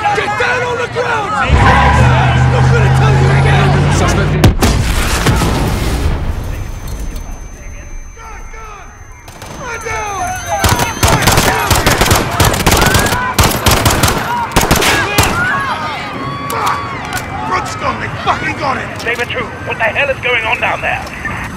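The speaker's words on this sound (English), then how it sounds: "There's been a detonation at Piccadilly Circus. Shots fired, officers down." Automatic gunfire and explosive blasts in a Call of Duty Modern Warfare 2019 street battle at Piccadilly Circus, loud and dense bursts of shots with crowd commotion and shouted voices over much of it.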